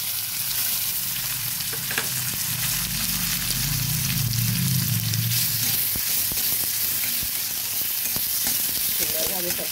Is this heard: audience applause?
no